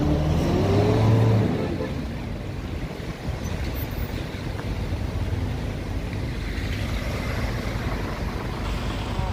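Highway traffic near Ragay, Camarines Sur, slowed where trees are being cut at the boundary: a vehicle rumbles close by at first, then a steady low wash of engines and road noise continues.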